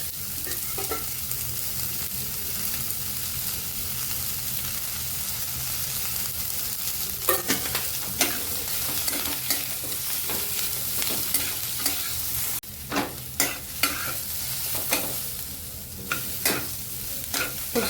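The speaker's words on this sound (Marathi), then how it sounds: "कांदा पण चांगला लाल होईपर्यंत परतून घ्यायचा" Onions frying in oil for a spicy prawn masala, with a steady sizzle under repeated sharp scraping stirs of a spoon against the pan, the stirring growing busier toward the end; no talking.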